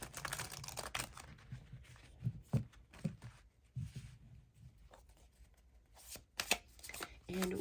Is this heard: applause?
no